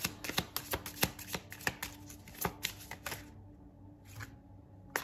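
A deck of tarot cards is shuffled close up for a reading, with quick crisp riffling bursts and taps in an irregular rhythm, pausing briefly near the end.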